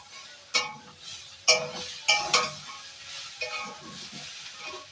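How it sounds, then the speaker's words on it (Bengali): Cabbage being fried soft in a pan, with a few sharp scraping stirs of a utensil over a low, steady sizzle, close by and without talk. "ভালো করে নরম করে ভেজে নিচ্ছি, মোলাম করে"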